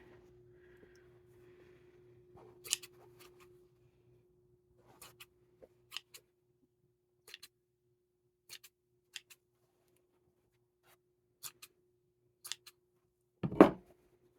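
Scissors trim the yarn hair of a Raggedy doll in a quiet room, giving sparse, crisp snips spaced a second or so apart, with one louder rustle at the end.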